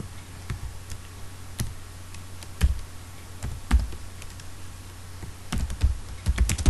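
Typing C code on a computer keyboard: scattered, irregular key clicks and short clustered bursts, close and fairly crisp, with no talking.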